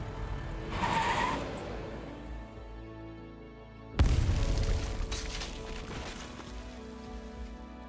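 A car in the video game Arknights races at speed, engine noise rising to a sudden loud boom and rushing roar midway, then continuing as a steady driving rumble with no talk.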